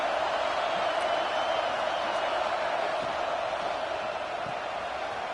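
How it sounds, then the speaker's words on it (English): A steady wash of stadium crowd noise from a college football video game, Ole Miss against Tennessee, a constant broad roar holding at an even level throughout with no distinct cheers or voices standing out. "Listen to the crowd energy here in the early going."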